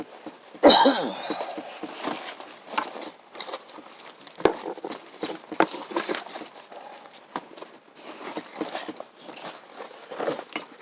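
A person coughs from long-stored dust, one loud close burst near the start followed by scattered smaller coughs, throat noises and light handling sounds.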